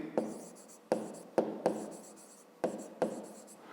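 Pen writing a math solution on paper, a series of close scratchy strokes with sharp onsets trailing off, about six strokes in irregular rhythm.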